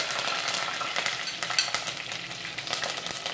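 Curry leaves and green chillies drop into hot coconut oil with popped mustard seeds for a Kottayam-style fish curry, giving a close, crackling sizzle with scattered sharp pops and stirring, no talk.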